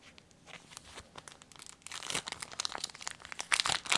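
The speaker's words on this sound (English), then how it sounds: "Get this one out of the plastic." A plastic sleeve crinkles and rustles as a coloring card is pulled free of it, quiet at first, then louder and busier bursts of crackling toward the end, close up with no speech.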